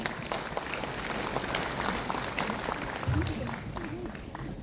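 Audience applause at a university graduation ceremony, a dense, steady wash of clapping filling a large hall, with voices sounding briefly partway through.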